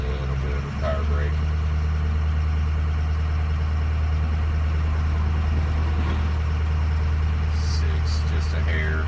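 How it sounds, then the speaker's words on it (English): A diesel truck engine that has just had its EGR valve replaced runs loud and close during a power brake test, a heavy steady drone with low hum. A voice talks over it. "Let's give it a little bit of a power brake."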